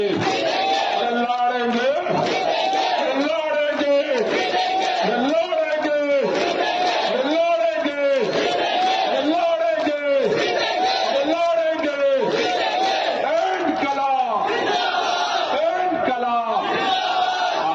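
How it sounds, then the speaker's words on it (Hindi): A large crowd at an outdoor political rally in Gujarat chants a two-part slogan in a steady call-and-response rhythm, voices swelling loudly every couple of seconds and repeating many times over dense massed noise. "मैं बोलूंगा लड़ेंगे, आपको बोलना है जीतेंगे, ताली बजाते हुए"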